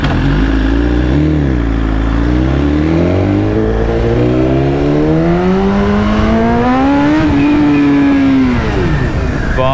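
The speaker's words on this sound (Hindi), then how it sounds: "बाइक तो अच्छी लग रही है, इंजन भी अच्छा लग रहा है इसका" A BMW S1000 RR motorcycle's engine revs while it is being ridden, its loud, close tone climbing and falling through the gears in smooth sweeps.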